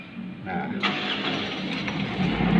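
A car engine cranks and catches, then settles into a steady running rumble during a pre-trip vehicle check before a long journey home.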